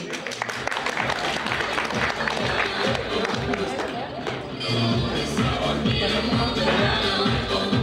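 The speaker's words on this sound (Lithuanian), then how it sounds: "Negailėkite plojimų." A school talent show audience in 2009 claps in a dense, steady roar, with scattered cheering and a low rhythmic thumping underneath that swells after the midpoint.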